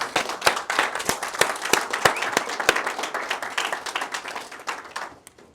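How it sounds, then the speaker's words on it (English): A church congregation applauds the choir at a Sabbath service, a lively burst of clapping with many sharp individual claps that slowly thins out and fades to quiet. "Let's go ahead and give the choir another round of applause."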